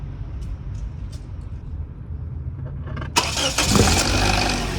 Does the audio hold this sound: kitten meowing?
no